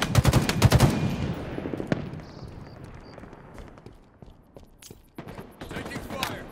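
Automatic gunfire from a Halo Infinite multiplayer match: a loud, dense burst of rapid shots at the start, then scattered single shots and short bursts at varying distances, with brief game voice cues.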